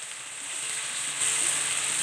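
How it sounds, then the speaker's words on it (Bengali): Chopped red chilies frying lightly in a pan for a Thai-style sea bass dish, giving a steady, soft hiss that grows a little louder and brighter partway through, with no talking. "দুই মিনিট হালকা একটু ভাজা দিবেন"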